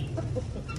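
Aseel hen clucking softly outdoors among free-roaming ducks and poultry, a few short low clucks against steady farmyard background noise.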